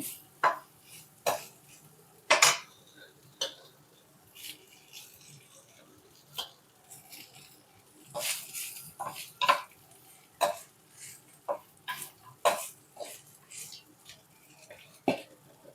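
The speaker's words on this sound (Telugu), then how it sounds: "లో ఫ్లేమ్లో పెట్టుకొని బాగా మిక్స్ చేసుకోవాలి రైస్ అంతా కలిసేలాగా" Carrot rice being stirred in a pan over a low flame, with sparse, sharp scrapes and clinks of a utensil against the pan, close and irregular, separated by quiet gaps.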